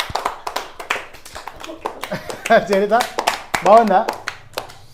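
Children and adults at an Ugadi festival party game clap their hands in quick, scattered bursts while voices talk and call out over them.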